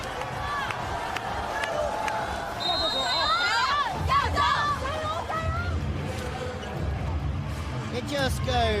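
Crowd noise fills an arena during a China vs Italy women's volleyball world championship match: a steady hubbub with sneaker squeaks and ball thuds from the court, and a commentator speaking over it.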